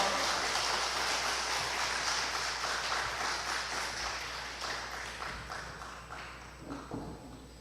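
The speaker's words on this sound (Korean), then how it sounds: "우리 다시 한번 하나님께 영광의 박수 올려드리겠습니다." Church congregation applauding during a Sunday morning service, a dense patter of clapping that slowly fades over several seconds, with faint murmuring underneath.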